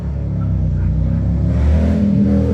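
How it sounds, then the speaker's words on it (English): A motorcycle passes close by with a loud, rising engine rumble that swells toward the end, alone without talk. "Motorcycle, yeah."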